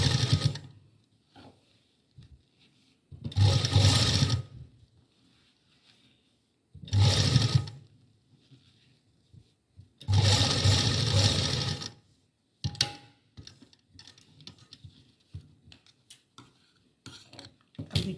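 A sewing machine stitches a crochet doll dress in several separate bursts of whirring, each lasting about a second or two, with quiet handling noises between them.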